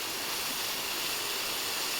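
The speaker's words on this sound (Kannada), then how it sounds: "ಸೊ ಇವಾಗ ಟೊಮೆಟೊ ಹಾಕ್ತಿದ್ದೀನಿ" Steady, even sizzling hiss fills the whole moment as tomatoes cook in a hot pan for an ivy gourd stir-fry, a constant bright frying noise with no talk.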